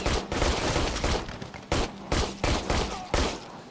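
Gunfire in the VR shooter game Immortal Legacy: a burst of rapid loud shots followed by several separate single cracks, close and punchy.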